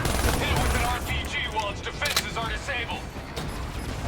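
Rapid gunfire from the video game Call of Duty Black Ops 3 rattles in bursts with mechanical clatter, loud and close, with people talking over it.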